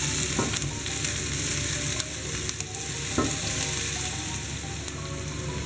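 Sliced boletus mushrooms with a pinch of salt frying in a pan, a steady close sizzle under occasional soft scrapes and taps of a utensil stirring, with no talk.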